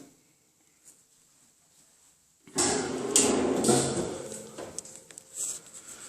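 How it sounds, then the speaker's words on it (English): A pull-out laundry basket drawer in a home utility room slides open with a rolling rumble and a few knocks, starting after a quiet moment and fairly close. "Underneath it is pull-out basket for laundry."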